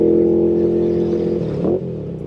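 A Royal Enfield Interceptor 650 with an S&S Qualifier exhaust accelerates hard, its loud, close engine note climbing steadily before the pitch shifts near the end as it eases off.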